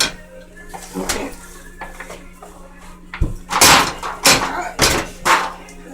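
Meat loaf mixture goes into a metal pan with a run of sharp clanks and knocks, loud and close, bunched toward the end over a faint steady hum.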